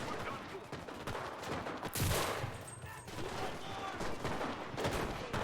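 Gunfire in the video game Enlisted, a rapid spread of shots and bursts with one heavy blast near the middle, sounding through a busy game mix.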